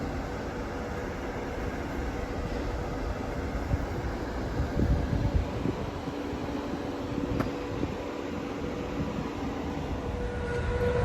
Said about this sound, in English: And this train here is departing shortly.